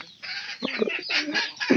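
Clucks from a backyard chicken kept outside come in several short, close bursts with brief gaps, moderately loud and without voices.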